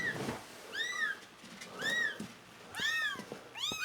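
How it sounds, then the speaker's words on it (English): Kittens meow indoors in a series of short, rising-and-falling cries, a few overlapping toward the end, fairly close and with no talking. "Oh, the kittens are in here now."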